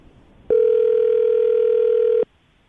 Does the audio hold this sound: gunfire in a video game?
no